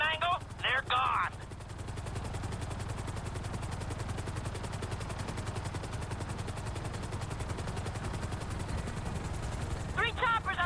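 Helicopters in Grand Theft Auto V give a steady, rapid rotor chop that holds under bursts of gunfire, with brief voices near the start and end.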